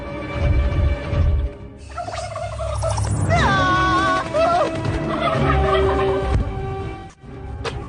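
A turkey-like gobbling bird call, standing in for a rooster, rings out loudly in a busy scene with background music and effects, several warbling bursts in the middle of the clip.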